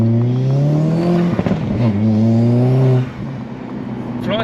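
A 320 bhp Alfa Romeo Giulietta accelerating hard with wheel spin, its loud engine note rising in pitch, briefly stumbling mid-pull, then cutting off abruptly into a quieter idle-like hum.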